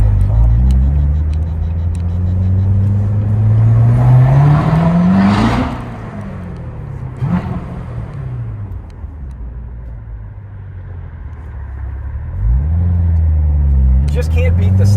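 A stock Corvette C7 Z06 engine revs hard, its pitch climbing and falling away, idles a moment, then roars up again. The engine is loud and close.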